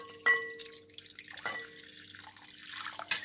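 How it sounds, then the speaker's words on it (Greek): Boiling water poured into a bowl over a vegetable stock cube for a vegan soy kebab dish, a short splashing trickle and a few drips, quiet and alone. "Νερό βραστό."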